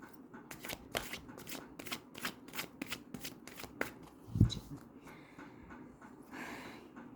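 Tarot cards shuffled by hand in a quiet room, a rapid run of soft riffling flicks and slaps, close and fairly quiet, with one sharper tap near the end.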